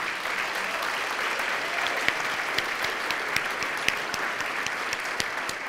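Audience applause at a talk on lipid energy, a steady dense wash of clapping throughout with a few sharper individual claps standing out, fairly even in level and no voices over it.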